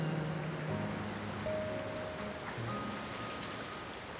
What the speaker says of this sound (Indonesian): Saat ini di tengah hujan, biarkanlah semua kejahatanku dan semua kemarahanmu telah larut di bawah hujan ini